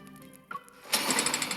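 A power hammer powers up in the video game Love and Deepspace. A quiet hum and a brief tone give way to a loud, steady mechanical whirring rattle that keeps going through the second half.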